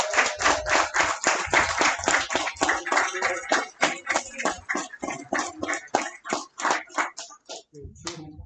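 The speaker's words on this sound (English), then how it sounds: "Big round of applause." An audience at a barber bootcamp graduation ceremony claps for a graduate, loud, fairly close handclaps in a brisk rhythm that loosens and thins out toward the end, with a brief murmur of voices at the close.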